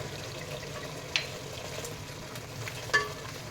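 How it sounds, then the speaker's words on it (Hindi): Tomato masala with red chili, including Kashmiri chili, fries in oil in a pan with a soft continuous sizzle, broken by two sharp scraping stirs of the spoon, quiet and close with no talking. "ये देखिए टमाटर हमारा बहुत अच्छे से भुन रहा है, इसका तेल ऊपर आ रहा है।"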